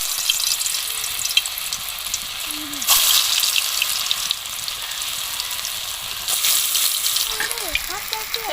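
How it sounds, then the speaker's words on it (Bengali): Pumpkin fritters (bora) deep-fry in oil with a loud, steady bubbling sizzle that surges twice. A brief voice is heard faintly at moments. "একইভাবে আমি সমস্ত বড়াগুলো ভেজে নেব।"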